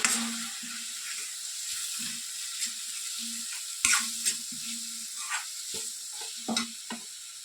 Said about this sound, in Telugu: వన్ స్పూను అల్లం వెల్లుల్లి పేస్ట్ కాస్త పచ్చివాసన పోయేంత వరకు బాగా వేయించండి